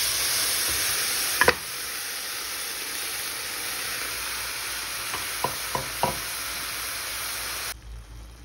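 Beef pieces, already cooked, fry in a pan with ginger garlic paste, giving a steady close sizzle and hiss with a few brief clinks and stirring scrapes, for a beef pepper dish.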